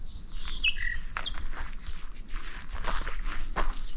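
Small birds chirp and tweet in brief high calls against a steady outdoor background in a state forest in northern New South Wales, with faint rustling and shuffling footsteps nearby.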